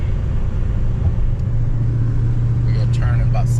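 A car cruising along a country road toward Smithfield, North Carolina, on a sunny day, with a steady, close engine drone and low road rumble continuing throughout.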